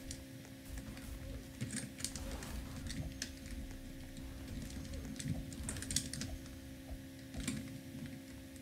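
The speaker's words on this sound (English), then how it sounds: "I'm literally typing" Fast, steady keystrokes clattering on a computer keyboard during a Roblox gaming session, close and continuous with a few louder taps scattered through.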